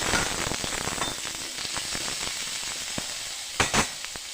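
Potatoes frying in a pan of hot oil for a cauliflower-in-milk dish, a steady crackling sizzle with scattered pops and two sharper spits near the end, close and alone.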